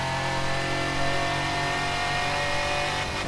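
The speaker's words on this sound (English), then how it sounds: "I'm letting it go right up to the rev limiter and then change gear, so you can hear the noise of that car" A car engine revs hard and loud to its rev limiter in first gear, a steady high-pitched roar held close to the mic throughout with no talking.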